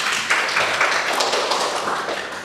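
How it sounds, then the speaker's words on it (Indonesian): A classroom of students applauds together, a dense, steady patter of many hands clapping close by that carries on evenly for a couple of seconds and eases slightly at the end. "coba tepuk tangan untuk jawaban"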